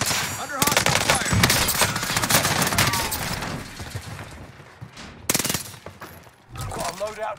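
Sustained automatic gunfire in Call of Duty Warzone on Rebirth Island, dense rattling bursts close by, thinning out and then a final volley with sharp impacts.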